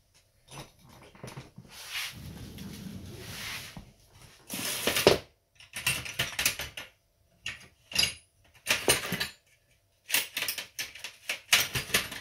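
Hand ratchet working 10 mm bolts on a Hitachi golf cart starter generator, with quick bursts of clicking and metallic scraping broken by short pauses, close and fairly quiet.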